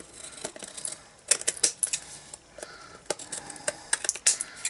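Long-bladed scissors snip through paper in quick, crisp cuts, irregular and close, trimming overhanging stencil paper, with short pauses between bursts of snipping.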